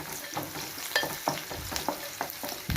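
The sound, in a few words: tempering spices frying in oil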